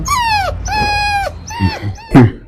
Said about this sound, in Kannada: ಅಕ್ಕ ಸ್ವಲ್ಪ ನಾಯಿ ಹಿಡ್ರಿ